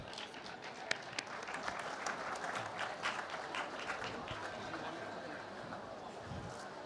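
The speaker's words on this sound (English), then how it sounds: "So let's give her a big clap." Audience applause at a literature festival session, a dense steady wash of many hands clapping through the whole stretch, moderately loud and continuous with a few sharper claps near the start.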